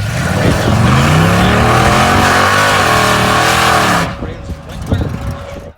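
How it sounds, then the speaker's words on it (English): A drag racing car doing a burnout, its engine revving hard with loud, wavering pitch swings for about four seconds before it cuts away to quieter, rumbling background noise. "So you can really see the difference doing a proper burnout, understanding what works best for your car."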